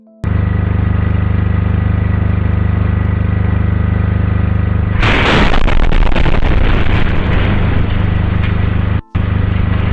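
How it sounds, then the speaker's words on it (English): Coal mine explosions at Pike River: a sustained loud rumbling roar suddenly gives way to a violent, crackling blast with debris-like noise, continuing loudly before a brief drop-out near the end. "we present you with footage from the subsequent explosions, which were significantly more powerful than the first one"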